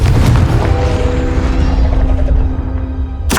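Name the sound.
Confringo fire spell blast in Hogwarts Legacy, video game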